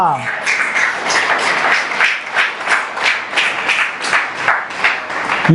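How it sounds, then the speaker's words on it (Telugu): A church congregation at a Sunday service claps loudly in a steady rhythmic beat, many hands together, close and sustained. "గట్టిగా చప్పట్లు కొడదామా?"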